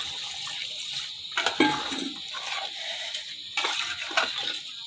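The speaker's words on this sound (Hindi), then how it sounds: "अब मैं इसमें पानी शामिल कर दूँगी।" Water pouring and splashing into a cooking pot of rice and chicken for degi chicken pulao, a steady rushing stream with a couple of louder splashy surges.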